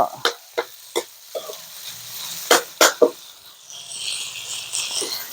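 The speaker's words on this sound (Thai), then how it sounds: "ผัดให้แห้งสักหน่อยก่อนใส่น้ำสักนิดก็พอ" Pork stir-fried for pad kra pao rattles and scrapes in a pan, with several sharp spatula knocks and a soft sizzle building toward the end, close and fairly loud.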